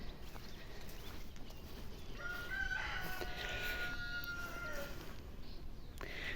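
Free-ranging chickens in a backyard give steady fowl calls, with rooster-like crowing and clucking, moderately close over a constant outdoor background hiss, with no talk.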